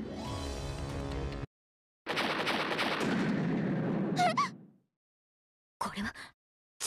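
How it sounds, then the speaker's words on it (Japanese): Gunfire from a CHARM weapon in the Assault Lily Last Bullet mobile game: a sustained burst of dense rapid shots, a short crackling volley after it, separated by silent gaps. "これはチャームによる射撃。"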